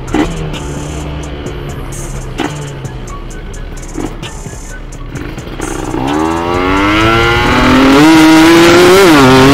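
A Kawasaki Ninja RR motorcycle fitted with a TM32 carburettor idles roughly on a test ride, then revs up hard and holds a loud, climbing engine whine through the final seconds.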